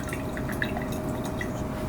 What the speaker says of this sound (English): And then we let it pour through.